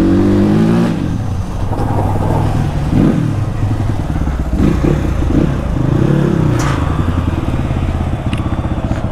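A dirt bike engine revs loudly and close up, its throttle rising and falling in repeated surges over a steady idle, with no talk.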